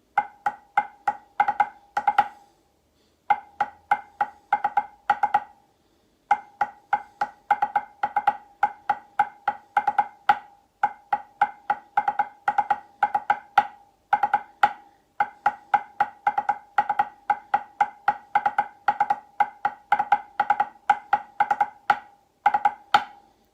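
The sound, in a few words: Lambeg drum playing triplets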